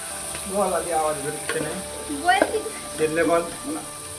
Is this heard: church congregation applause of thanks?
no